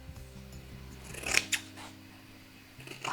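Scissors snip through paper for a handmade vintage envelope-style needle book, giving a couple of quick, crisp cuts near the middle over quiet background music, with no talk.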